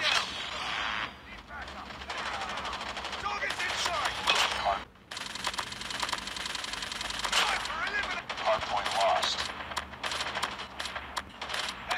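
Rapid automatic sniper rifle fire in the mobile shooter game Call of Duty Mobile, sharp cracking shots in quick bursts throughout, loud and close, with someone talking over them.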